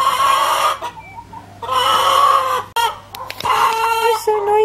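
Backyard hens cluck and squawk loudly and close by in bursts, with a rooster-like crowing call among them. Someone speaks briefly between the bursts.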